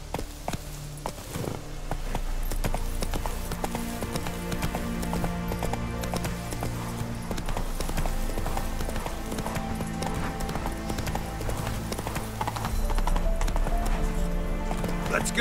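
In The Witcher 3: Wild Hunt, a horse's hooves clip-clop in a steady walking rhythm for the whole stretch, mixed with continuous game music.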